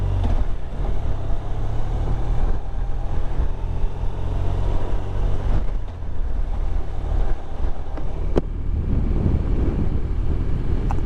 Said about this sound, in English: It's quite windy this afternoon, it's a bit blustery